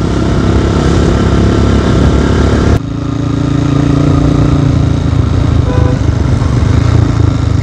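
A motorcycle with an oversized rear tyre causing a wobble runs steadily, a loud continuous rumbling engine drone with a brief dip partway through, close and without talk.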